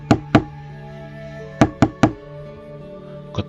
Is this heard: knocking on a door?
yes